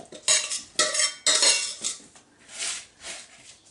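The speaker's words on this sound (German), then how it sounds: "Das wird nun vermischt." Vegetables being stirred and tossed in a bowl with cutlery, a series of clattering scrapes and clinks in uneven bursts, close and fairly loud, with no voices.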